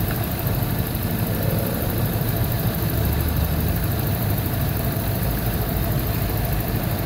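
A Toyota pickup engine idles around 770 RPM during an ignition timing check, a steady, loud, close-up broadband drone that continues unbroken with no talking.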